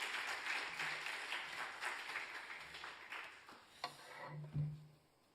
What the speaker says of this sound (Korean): 우리 목사님 나오실 때 크게 박수로 축복해 주시기 바랍니다.